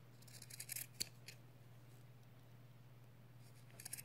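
Scissors snipping through fabric while sewing cloth wipes: a few quiet, crisp snips clustered early, one sharp cut near the middle, then faint snips at the end over a low steady hum.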